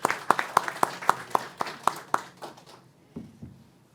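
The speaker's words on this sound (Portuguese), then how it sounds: "Salva de palmas aqui." At a panel debate on renewable energy in Brazil, a small audience gives a short burst of about nine sharp, evenly spaced claps that quickly thin out and fade to near silence.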